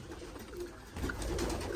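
A tumbler pigeon coos low and soft at close range, a brief throaty murmur that swells slightly in the second half, with no talking.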